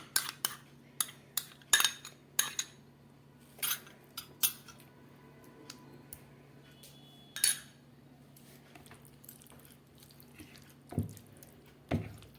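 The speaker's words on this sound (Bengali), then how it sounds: "সমস্ত চিকেনগুলোর মধ্যে এই দইটাকে আমি খুব ভালো করে মেখে নিচ্ছি" Yogurt is worked by hand into marinated chicken for tandoori: quiet, scattered clinks of a bowl and utensil mix with soft, wet squishing sounds, fairly close and otherwise still.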